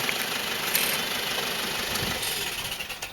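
A pickup truck engine idles nearby with a steady rumble at an even pitch, with a constant hiss and no talking.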